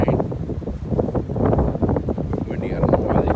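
Gusty wind buffets the microphone outdoors at a deer camp over Labor Day weekend, a steady, rough broadband rush that swells and dips throughout without a break.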